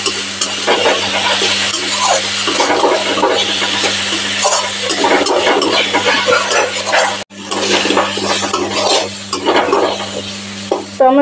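A pan of tomatoes being stirred while cooking a Katla fish curry, giving a steady scraping and sizzling under continuous frying noise, with a brief break partway through.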